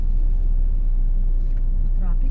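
Heavy road traffic in a congested city street rumbles steadily close by, a constant low drone of idling and crawling vehicles, with people talking over it.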